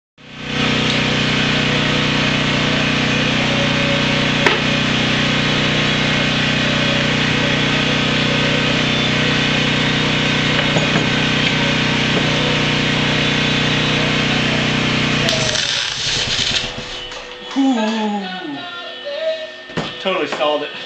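A giant robot's newly fitted motor runs with a loud, steady drone for about fifteen seconds, then stalls abruptly and falls into uneven clunks, whines and rattles as it dies.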